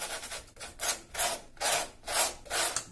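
Wet paint being scraped across a painting surface, several rhythmic rasping strokes repeated in a steady back-and-forth pattern, close and fairly quiet with no voices.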